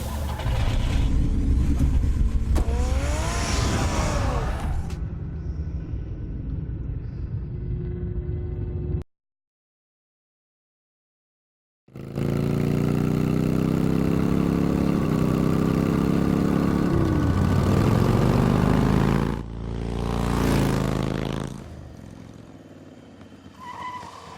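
A car engine in a Batman Telltale video game revs loudly and drives off with rising and falling engine tones, then cuts to silence before resuming with a roaring drive and a tire skid.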